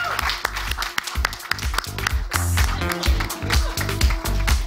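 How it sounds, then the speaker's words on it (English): An audience at a fashion and survey unveiling event applauds designer Masaba Gupta, with sharp, uneven claps and thumps over music or background noise, loud and near throughout. "So let's have a huge round of applause for Masaba Gupta."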